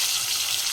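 Ginger paste fries in a pot alongside bay leaves and torn green chillies, giving a steady, close, loud sizzling hiss that lasts under a second with no talking.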